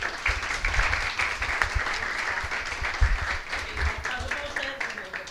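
A university audience at a UNED rector candidates' event in Pérez Zeledón gives sustained, moderately loud applause that is mixed with crowd murmur.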